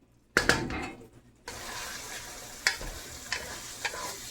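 Rice and chana being stirred and roasted in a pot for chana pulao, a close, steady sizzle broken by a few sharp scraping strokes of the spoon.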